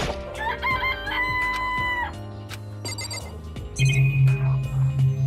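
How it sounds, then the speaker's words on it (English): Chickens in a video game cluck in short bursts, and a rooster crows loudly once, with other synthetic game tones ringing alongside, all without any voices. "let's get away from the chickens"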